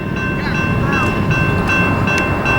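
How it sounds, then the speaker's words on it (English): Eastbound freight train passing on the Needles Sub near Barstow, California, a loud close rumble and rolling wheel noise with high metallic squeals, while people talk over it. "There goes that freight eastbound."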